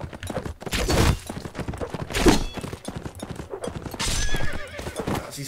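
A horse in the Mount & Blade video game gallops with rapid clip-clop hoofbeats and lets out loud neighs and whinnies, the battle noise punctuated by impact thuds.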